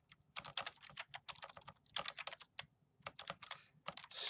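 Steady bursts of typing on a computer keyboard, a run of rapid close keystrokes with short pauses between words, fairly quiet and with no voices.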